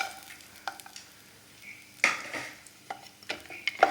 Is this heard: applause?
no